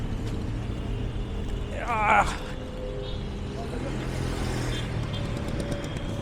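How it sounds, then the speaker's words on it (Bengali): Traffic on a busy road in Egypt, a steady rumble of engines with a passing vehicle swelling louder around the middle, under a voice speaking. "আপনারা দেখুন এখানে রাস্তা ক্রস করা যাচ্ছেই না, এত বিজি রাস্তা"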